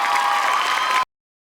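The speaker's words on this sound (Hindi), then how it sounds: "एक बार जोरदार तालियां हो जाए तुषार भाई और अर्जुन भाई के लिए" A studio audience applauds and cheers, a dense, loud wash of clapping with crowd noise that cuts off abruptly after about a second, followed by silence.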